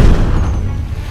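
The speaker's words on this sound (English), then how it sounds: "firing the cannon" A cannon fires at a seaside stone fort in Puerto Rico, one loud deep boom that rumbles and slowly fades, heard alone without voices.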